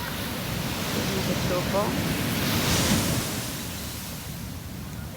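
Morning sea waves at a beach wash in a steady broad roar with wind buffeting the microphone, swelling and easing gently while someone speaks briefly over it.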